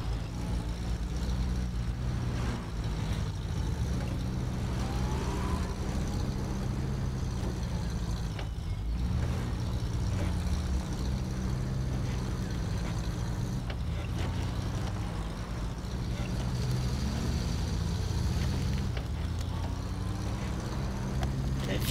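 A Porsche with its stock engine in the video game Expeditions, set along a river patrol route in Arizona and Sonora, runs at a steady, continuous drone for the whole stretch, with no speech over it.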